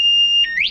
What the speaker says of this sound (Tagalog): Alarm yan.